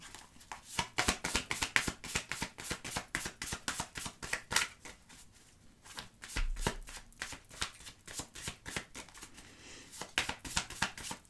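Tarot cards are shuffled close by in quick, crisp riffles and taps, repeating in a steady rhythm with a brief pause midway, and no talking.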